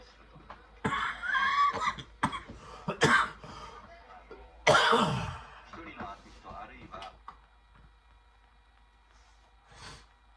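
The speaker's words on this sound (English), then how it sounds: "Man, I'm really sick of this cough." A person coughs repeatedly in harsh, close bursts with gasping breaths and throat noises between them, tapering off to a single faint cough near the end.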